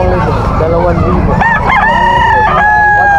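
A young gamefowl stag crows loudly and close by at a rooster market in Malabon, its drawn-out calls rising over constant crowd chatter and market noise.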